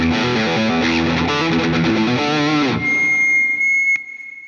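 Overdriven electric guitar on the neck pickup strums a few loud distorted rhythm chords, then they stop and a thin high tone hangs on with faint noise.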